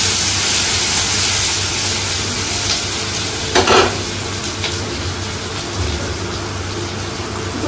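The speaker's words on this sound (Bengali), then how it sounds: "পেঁয়াজটা একটু ভাজা ভাজা হবে" Onions frying in oil in a pan, a dense, steady hiss of sizzling that fills the whole stretch, close and loud, with a brief stir or scrape midway and no talking.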